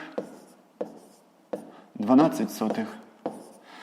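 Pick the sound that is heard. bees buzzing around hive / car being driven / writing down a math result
writing down a math result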